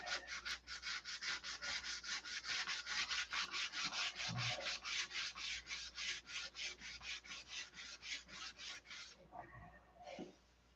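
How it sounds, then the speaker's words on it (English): Sandpaper is rubbed back and forth over the split line where a model airplane wing meets the fuselage, a rapid rhythmic rasping of about forty even strokes, close and steady, slowing before it stops. "that split line needs to be sanded out so that it's a smooth transition from the wing to the fuselage"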